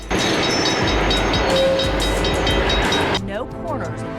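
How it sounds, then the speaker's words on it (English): A runaway freight train grinding to a stop under emergency braking, a loud, dense rumble and screech that holds steady for about three seconds, then drops away as a voice speaks over the fading noise. "Thanks to the emergency braking system, a runaway freight train was stopped in an instant."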